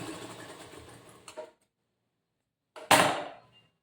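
A sewing machine stitching a boat neck blouse, two short bursts of mechanical whirring separated by a second of silence, the second burst sharper and louder.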